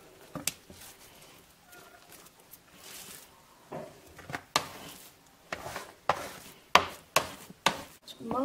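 A knife cuts through caramelized Liège waffle dough on a board, giving a series of sharp, close chopping taps that quicken and grow louder toward the end, with no one speaking.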